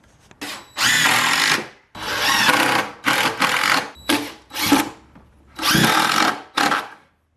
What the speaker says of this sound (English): now drill some holes in here